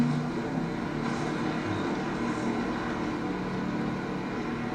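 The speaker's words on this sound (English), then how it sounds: "It's very reassuring to hear the helicopter's engine all the freaking time." A helicopter engine in the off-road racing game Baja: Edge of Control drones in a steady, continuous low rumble with a broad hiss layered over it, holding constant throughout with no talk.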